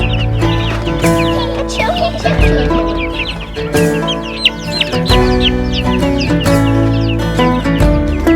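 A small white and black bantam chicken clucking in a hot, enclosed coop, close and loud, with other fowl chirping and clucking densely around it throughout.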